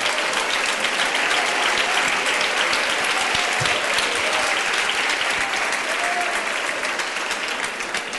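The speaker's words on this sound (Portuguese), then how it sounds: "Pode sentar e aplaudir ao Senhor" A church congregation applauds together in worship, a thick, even wash of clapping that holds steady throughout and thins slightly near the end.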